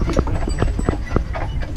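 Carriage horses' hooves clip-clop on a Mackinac Island street in a quick, uneven run of sharp knocks, close and clear, with no talking.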